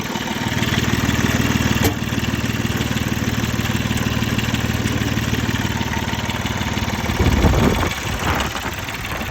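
A Mitsubishi MT 245 tractor engine idles loudly and steadily with a rough, continuous rumble, briefly surging near the end before settling again.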